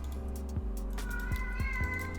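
A house cat meows several times in quick succession, short plaintive cries close to the microphone over a steady low background hum.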